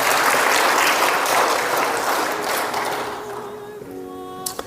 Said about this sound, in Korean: 감사의 박수 한번 주실래요, 여러분?